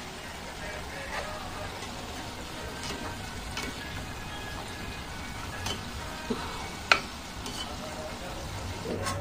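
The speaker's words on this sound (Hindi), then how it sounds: "करंजी को घी में तलने से ही टेस्ट अच्छा आता है" Karanji (gujiya) fry in ghee with a steady, close crackling sizzle that stays even throughout, broken by a few small pops and one sharper clink near the end.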